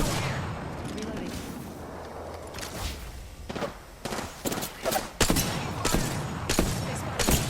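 Gunfire in Apex Legends cracks out in a string of sharp, loud shots that grow denser toward the end, over a rumbling game background, with a voice talking at points.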